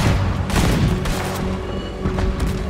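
Cannon fire in Red Dead Redemption 2 booms out in heavy, overlapping blasts, loud and dense, with rumbling echoes filling the whole stretch.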